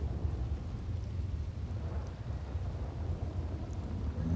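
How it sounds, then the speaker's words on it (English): Heavy thunder rolls during a storm, a deep continuous rumble mixed with rain and wind noise, loud and close throughout, with no talking. "Thunder's very loud."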